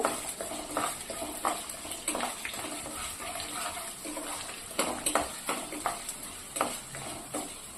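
Dal and onions fry in a pan in a Telugu home kitchen, a steady crackling sizzle broken by repeated scraping stirs at a close, moderate level.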